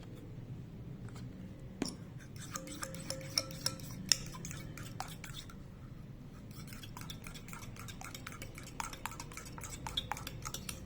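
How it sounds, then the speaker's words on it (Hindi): Fresh cream is stirred into cooled custard for a fruit ball dessert. A spoon clinks and taps against a bowl in light, irregular ticks over a quiet room, with no talking. "अब इसमें आप क्रीम डालेंगे, फ्रेश क्रीम, और इसको मिक्स करेंगे अच्छी तरह"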